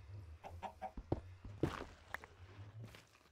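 Blocky video-game chickens from Minecraft cluck in a quick, uneven series of short calls, mixed with soft footstep-like taps, close and fairly clear with no talking.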